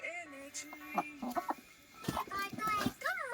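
Hill Laijja chickens cluck and call close by in a short burst of varied, rising and falling clucks, with a voice murmuring faintly in the background.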